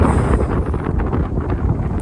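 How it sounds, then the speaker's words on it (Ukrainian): Strong wind buffets the microphone with loud, steady rumbling roar outdoors at a playground swing, continuous throughout with no clear speech. "Такий вітер дуже сильний. Не знаю, чи буде чути мене, чи ні."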